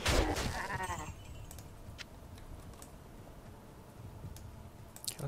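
Goatman enemies in Diablo II bleat in a loud burst at the start of the clip, then fade into busy game effects and scattered clicks, with a few sharp hits near the end.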